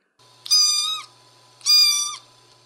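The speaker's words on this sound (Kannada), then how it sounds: "ಬೆಕ್ಕಿಗೆ ಏನಂತೀವಿ ಕ್ಯಾಟ್ ಅಂತೀವಿ" Cat meowing twice in clear, loud, close calls of about half a second each, separated by a short pause over quiet background.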